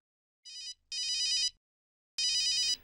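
A telephone rings in short electronic bursts, two close together and a third after a pause, clear and fairly near, with a faint thud before the last ring.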